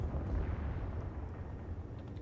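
Heavy low rumbling blast as a torpedo strikes the German cruiser Hindenburg in World of Warships, a sustained booming explosion rolling on for a couple of seconds with no voices.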